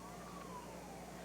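A siren wails faintly in the distance at an offshore powerboat race in Southwest Florida, a thin gliding tone beneath steady engine and crowd noise.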